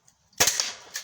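A Byrna HD less-lethal launcher fires a single sharp shot outdoors in cold weather, a crisp pop with a short hiss of gas after it, then a faint tail and small click.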